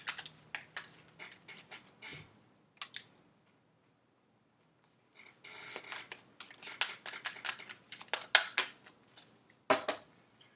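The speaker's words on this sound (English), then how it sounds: "Two more shuffles." A deck of tarot cards being shuffled up close: bursts of papery riffles and soft slaps, a quiet gap in the middle, then more vigorous shuffling with sharp snaps toward the end.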